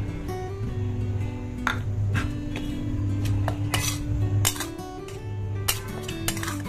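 A spoon stirs flour into a thick mixture in a metal pan for homemade soan papdi, making scraping strokes and sharp metallic clinks against the pan over a low steady hum.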